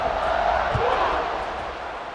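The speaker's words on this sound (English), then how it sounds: "this crowd now ready to get behind them" Crowd noise from a stadium in the video game EA Sports College Football 26 fills the background as a broad, steady roar, with a commentator speaking over it.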